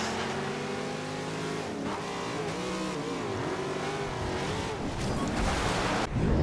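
A car engine revving hard during a Forza Horizon 2 race, its pitch climbing and dipping through gear changes, loud and close for the whole stretch, ending in a sharp surge.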